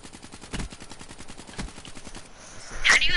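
Rapid automatic gunfire from the Call of Duty Black Ops III video game, a steady burst of shots with a few louder cracks, ending in a sharp bright blast near the end.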